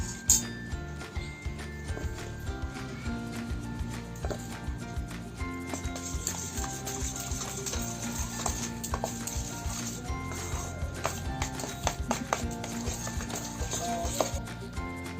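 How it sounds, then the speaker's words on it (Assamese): Eggless sponge cake batter with flour being beaten by hand in a bowl, a quick steady rhythm of soft knocks and scrapes repeating close by, with faint background hum. "এনেকৈ মই এইখিনি কেকৰ হেৰিটো ফেটি ল'লোঁ"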